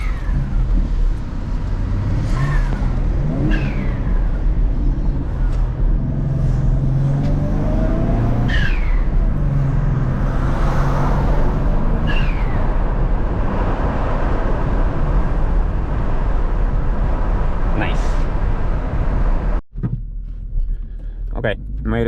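A twin-turbo Mustang suffering spark plug blowout accelerates hard at high RPM, its loud, dense engine roar filling the whole stretch, with voices talking over it before a brief drop near the end.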